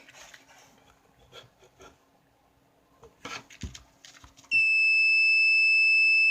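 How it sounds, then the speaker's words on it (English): Quiet shuffling and clatter, then a power press machine's loud, sustained electronic buzzer suddenly starts and holds a steady high tone to the end. "now see, the buzzer's going off, the light's blinking"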